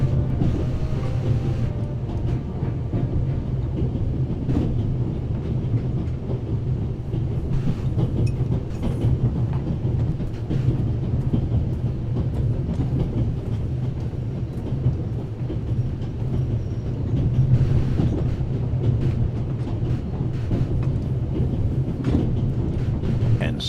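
A train rolls along the tracks in the video game The Raven Remastered, a steady rumbling clatter with faint rhythmic clicks that continues throughout, while a voice speaks at times over it.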